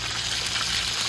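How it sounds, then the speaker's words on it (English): Snapper frying in a pan for a Guyanese-style curry gives off a steady, dense, close sizzle with no break. "Just finish frying it."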